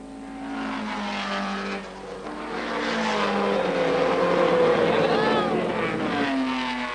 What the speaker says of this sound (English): a worried Mildren asks Businello if he's happy with the sound of the car